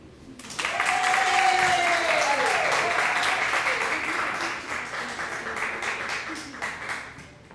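An audience applauds to welcome speaker Karen Eddy at a Halloween show and dance party; the clapping starts abruptly, swells to a full, sustained round, then slowly thins out, with voices faintly mixed in.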